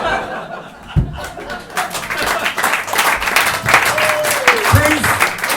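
A comedy club audience claps and chuckles during a stand-up show, a close, lively spread of applause mixed with scattered laughter while the comedian talks over it.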